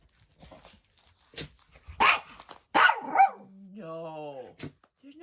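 A dog barks and yips in several sharp bursts, ending in a drawn-out whine-like howl, at moderate distance, with a few quiet human sounds in between.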